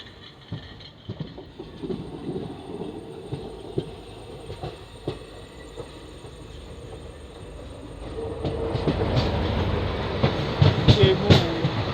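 Koyna Express passenger train rolling on rails between Mumbai and Kolhapur after a halt, a steady rumble with scattered wheel clicks that grows louder and fuller toward the end.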